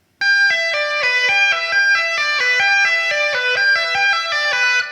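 Electric guitar tapping a repeating note pattern at a slow, even pace, each note sharply picked out, bright and sustained with no voices.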